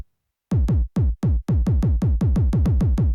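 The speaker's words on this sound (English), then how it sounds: "use resynthesis using sine waves and all that to reproduce the same sound and isolate the kick." Isolated kick drum rebuilt with sine-wave resynthesis for a minimal tech house track, a clean booming thump repeating in a steady four-on-the-floor pattern with a couple of gaps early on, loud and alone.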